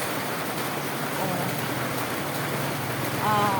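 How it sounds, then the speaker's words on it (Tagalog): Heavy rain hisses as a steady, dense wash of noise throughout, with faint background sounds and no clear voices. "Lakas ng ulan."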